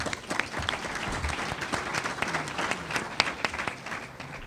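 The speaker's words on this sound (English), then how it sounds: "Carol, how about a round of applause?" An audience at a pre-election panel claps in a brief round of applause, a moderately dense patter of hands with a few sharper individual claps standing out, fading slightly toward the end.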